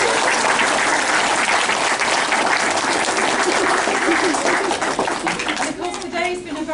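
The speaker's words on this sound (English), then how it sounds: "So should we just give Nicola a round of applause?" Loud, dense applause from an audience gathered at a nursery's official opening, steady and continuous before tapering off slightly at the end.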